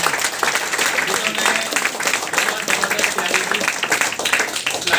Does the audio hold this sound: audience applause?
yes